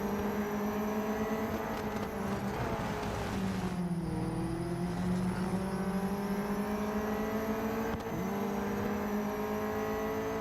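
Racing car engine in the Real Racing 3 mobile game, a continuous loud revving drone that climbs through gears, drops briefly around a corner and surges again, alone without talk.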